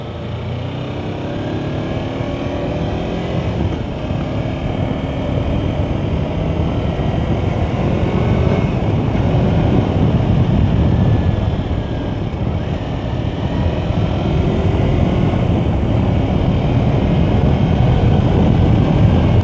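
A Kawasaki Versys X 250 motorcycle on the move gives a constant broad roar of engine and wind, steady and fairly loud throughout, with slight swells in level; no voice is heard.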